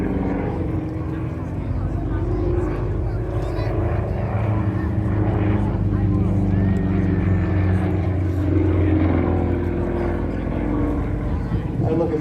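Aerobatic aeroplane performing manoeuvres at the Brisbane Australia airshow, a steady loud propeller engine drone that rises and falls in pitch, with crowd and commentary voices underneath throughout.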